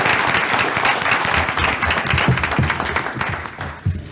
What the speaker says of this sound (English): Let's give them a round of applause for an excellent discussion